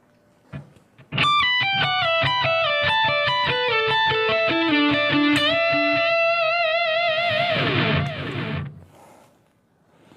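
An electric guitar plays a solo section at a slow tempo, a run of distinct picked notes stepping down and across the neck, clear and prominent, ending in a sustained bent chord that rings and fades.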